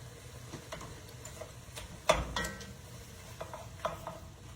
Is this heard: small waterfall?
no